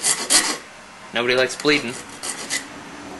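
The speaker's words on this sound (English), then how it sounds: "you can always just come in with a file and clean that off" A hand file scrapes a broken rivet mandrel clean in a few short rasping strokes, close by, with a person speaking between strokes.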